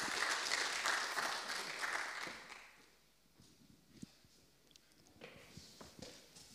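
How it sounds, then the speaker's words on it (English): Applause at the 5G Hub Innovation Challenge final for the event team as they come up, soft and somewhat distant, fading after a couple of seconds into scattered light claps and footsteps. "And a big round of applause to them."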